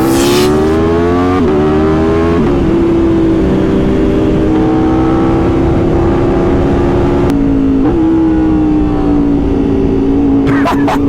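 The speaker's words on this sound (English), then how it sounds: "Yeah, that sounds good. Kay says it sounds better than the R1" A Kawasaki Ninja H2 supercharged sport motorcycle engine revs loudly and steadily up close, its pitch rising and dipping through several throttle blips at a supercar meet, with a brief voice under the roar.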